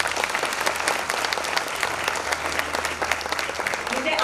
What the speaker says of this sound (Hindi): सबसे पहले मैं चाहूंगी कि आप सभी लोग मेरे स्कूल के लिए ढेर सारी तालियां बजाएं.